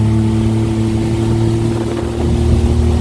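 An aluminium motorboat with a 30-horsepower outboard engine runs loud and close. The drone stays steady, with a strong engine hum and wind buffeting the microphone.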